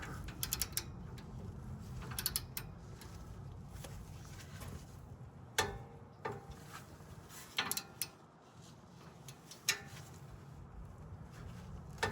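A ratchet clicks in short bursts while tightening a bolt during a rear brake job, faint and close, with scattered metallic clatter and quiet gaps between strokes.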